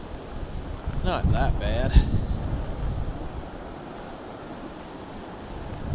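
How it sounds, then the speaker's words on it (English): Blustery wind in a major Nova Scotia snowstorm in February, a steady broadband roar buffeting the microphone throughout, with someone speaking briefly near the start. "There comes some more wind."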